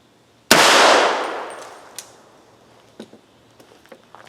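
A 300 Blackout rifle firing a 230-grain round into ballistic gel gives one loud, sharp report with a long decaying tail, followed by a few faint clicks and taps.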